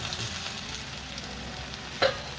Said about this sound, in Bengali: এবার আমি এই সিদ্ধ করা আলু আর কচুটা দিয়ে দেবো।